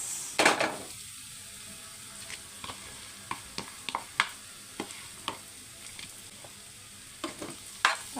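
Boiled raw jackfruit bhaji with coriander being stirred in a pan, a spoon scraping and clinking in scattered taps over a soft steady sizzle, close and fairly quiet with no talking.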